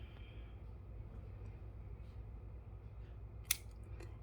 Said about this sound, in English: Snip off the tails.